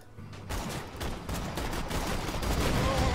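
Gunfire in the shooter game Borderlands 2, a rapid run of close, loud shots in quick bursts that keeps building over about three seconds, with no talking over it.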